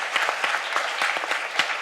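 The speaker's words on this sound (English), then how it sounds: "a round of applause for our amazing panel" Audience applause fills a conference hall after a panel session, a steady wash of clapping with sharper individual claps popping out irregularly throughout, close and sustained with no talking.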